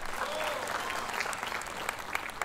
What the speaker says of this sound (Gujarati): આપણા રોસ્ટ માસ્ટર ઓજસભાઈ માટે જોરદાર તાળીઓ થઈ જાય